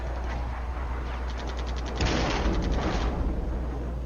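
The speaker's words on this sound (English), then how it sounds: "I drop my artillery onto his artillery" Artillery barrage with bursts of gunfire and explosions in a multiplayer wargame battle at Norderfurt, a steady rumbling roar under rapid crackling reports that swell louder midway, then ease back.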